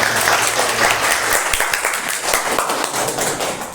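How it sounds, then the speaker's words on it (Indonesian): A school class bursts into hand clapping, a dense rapid patter of many palms close by that holds loud and steady throughout, then eases slightly at the end. "Oke, tepuk tangan."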